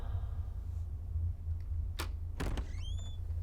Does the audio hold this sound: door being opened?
yes